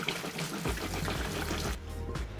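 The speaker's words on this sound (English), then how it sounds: "Now that it's cut, I'm gonna give it a little rinse." Cut cauliflower florets get rinsed under running water, a steady close rush of tap water with splashing over the pieces in a bowl or colander, dropping slightly toward the end.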